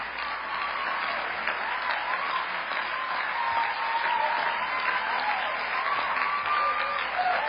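Audience at the 2008 Hampshire College commencement applauding in a steady, dense wash of clapping that holds evenly throughout, with no voices standing out.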